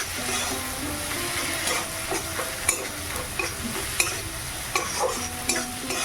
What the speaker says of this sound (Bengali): সবই দিয়ে দিচ্ছি একসাথে আলাদা আলাদা দিলাম না সব কষে নিচ্ছি একসাথে